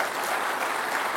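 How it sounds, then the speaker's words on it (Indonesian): Studio audience applause for Anies Baswedan during a televised Jakarta gubernatorial election debate, a dense, steady wash of clapping, close and loud, with no voices over it. "kita bisa kasih tepuk tangan untuk Pak Anies Baswedan"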